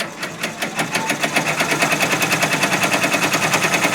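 A Brother PR 1055 multi-needle embroidery machine runs continuously, its needles hammering in a fast, even, rattling rhythm that stays loud and close throughout.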